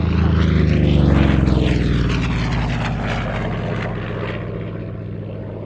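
A Vought F4U Corsair propeller fighter passing overhead at an airshow, its radial engine a loud, steady droning roar that swells close and slowly fades as it moves away.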